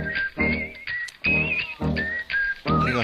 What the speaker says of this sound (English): I just knew you were going to start whistling over there.